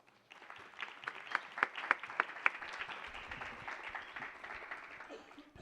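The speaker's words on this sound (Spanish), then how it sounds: "Un aplauso para ellos, por favor." An audience at a medical conference breaks into applause, a steady wash of clapping that swells briefly and then carries on evenly, with a few louder claps standing out.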